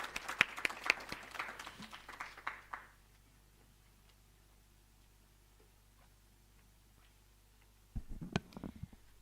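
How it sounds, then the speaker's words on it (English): Applause from an audience at a university entrepreneurship intervarsity event, a burst of clapping in the opening seconds that fades out, followed by near silence and a brief stir of sound near the end. "Let's give her a beautiful hand of applause."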